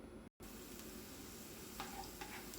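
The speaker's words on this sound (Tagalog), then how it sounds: "Igisa po muna natin yung bawang." Garlic sautéing in hot cooking oil in a frying pan while chicken liver and cabbage are being cooked, giving a steady close sizzle with a few brief stirring clatters near the end.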